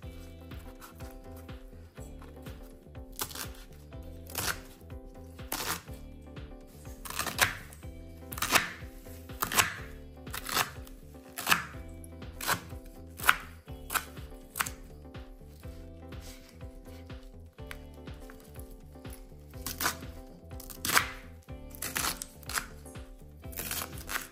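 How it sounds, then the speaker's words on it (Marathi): Fresh colocasia (taro) leaves being finely chopped for bhaji, with a steady series of close, crisp knife strikes against a board, repeating unevenly and sometimes in quick bursts over a faint background hum. "अशी बारीक बारीक चिरून घ्यायची, मग चांगले मिक्स होते।"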